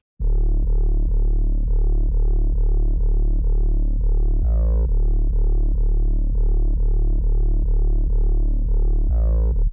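A deep, layered synth bass pulses in a steady repeating pattern in a beat, heavy low end with bright sweeping overtones, punctuated by occasional fills.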